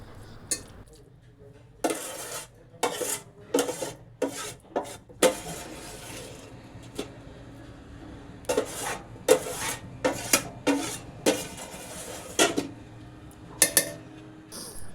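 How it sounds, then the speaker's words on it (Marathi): A utensil scrapes and clanks against a pressure cooker while cooked lentils are stirred with cut jaggery, with irregular bursts of rasping strokes and pauses between them. "त्याच कुकरमध्ये मी शिजलेली डाळ घालणार आहे आणि त्यामध्ये कापून घेतलेला गूळ घालून डाळ चांगली परतवून घेणार आहे"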